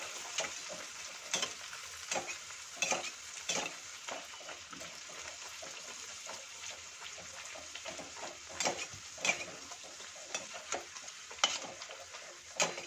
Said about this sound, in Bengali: এবার আমি এর মধ্যে বেলে রাখা কচুরি ছেড়ে দিচ্ছি